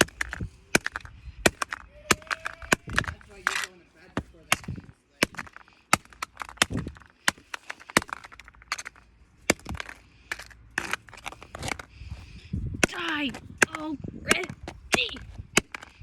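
Repeated sharp smashing blows break up a phone, and glass cracks and scatters between the hits. Irregular loud impacts come with a person talking and exclaiming throughout.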